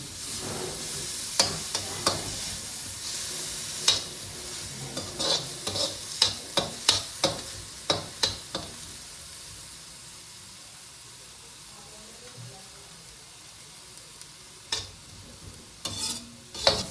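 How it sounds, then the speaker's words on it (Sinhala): Utensil stirring creamy chicken pasta ingredients in a frying pan, a series of sharp scraping clacks over a low steady sizzle, with a quieter stretch midway before a few more strokes. "ඊට පස්සේ හොඳට කලවම් කරගමු."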